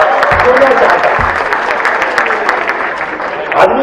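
Audience applause at a Hindi comedy poetry recital by Sunil Jogi, with loud close clapping from a crowd that runs on evenly and mixes with voices in the room.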